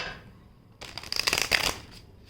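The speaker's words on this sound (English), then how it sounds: "I'm going to give one more fresh cut and a shuffle." A tarot card deck is riffled and shuffled in a quick burst of crisp, close card flutter lasting about a second, with near silence before and after.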